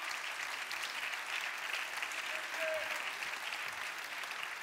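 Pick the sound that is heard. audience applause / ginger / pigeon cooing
audience applause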